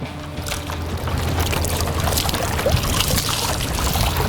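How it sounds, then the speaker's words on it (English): An old towel is dunked into lake water beside a boat, giving a steady wash of splashing and trickling water that carries on for several seconds, with a low outdoor rumble underneath. "I'm just gonna just put it down in the lake water, like so."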